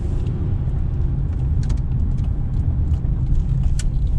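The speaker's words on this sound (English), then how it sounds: "There's a drift car back there." Drift car engine rumbling nearby, a loud, steady low-frequency drone with sparse ticking and rattling on top, continuous and unbroken, no voices.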